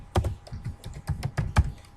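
Keystrokes tapping on a computer keyboard while commands are entered into a Cisco router console during a small office network setup, a dozen or so close, uneven clicks in quick bursts with brief pauses.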